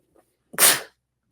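A single sharp human sneeze bursts out once after a faint intake of breath, close and loud, followed by silence.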